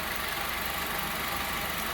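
Idling engine of a 2014 Honda Civic with a faulty accessory belt tensioner, a steady close mechanical drone with continuous rattly, ticking texture throughout and no voices.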